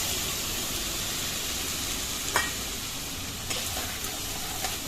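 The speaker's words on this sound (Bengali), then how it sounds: "জিরে গুঁড়ো, ধনে গুঁড়ো আর শুকনো লঙ্কা গুঁড়ো, এটা একসাথে একটু হলুদ দিয়ে জলে গুলিয়ে সেই মিশ্রণটা ঢেলে দিলাম" A spice paste of cumin, coriander, chilli and turmeric mixed in water sizzles in a hot pan for paneer kalia, giving a steady, fairly quiet frying hiss with a few small pops and stirs.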